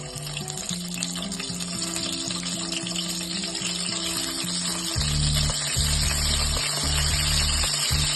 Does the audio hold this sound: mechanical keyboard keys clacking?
no